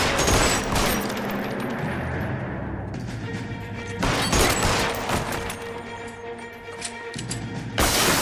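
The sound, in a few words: gunfire in the video game L.A. Noire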